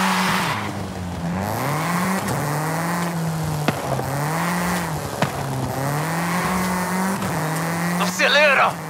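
Engine of a car in Forza Horizon 5 rising and falling through repeated revs and gear shifts while it accelerates along a dirt road, loud and steady, ending with a brief tire squeal.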